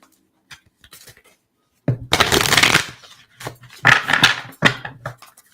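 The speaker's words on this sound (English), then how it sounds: "And on the fourth shuffle," Oracle cards being shuffled in quick riffling bursts, close and crisp, separated by short pauses and a few soft taps.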